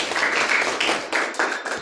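A class cheers a student's science experiment with loud, dense applause from a roomful of people, surging in short bursts.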